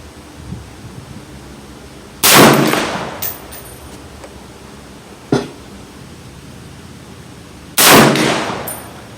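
Two loud, sharp M14 rifle shots ring out several seconds apart on a range, each with a brief echoing tail, and a smaller metallic clack falls between them.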